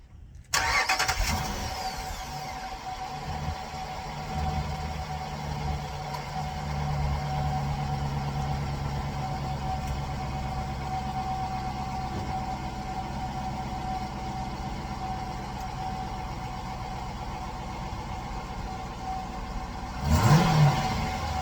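A 2015 Dodge Durango with its rear resonator deleted cranks and fires up with a loud burst, then settles into a steady, rumbling idle heard up close for a long stretch, ending with a short blip near the end.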